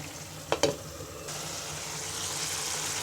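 Bata fish dopeaji with chopped coriander cooking in a pan. Two quick knocks, like a lid being set down, come first, then a steady, close sizzle of frying continues to the end.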